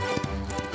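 Cartoon horse hooves clip-clopping in a short, quick patter of a few hoofbeats, close and fairly loud under a busy animated soundtrack.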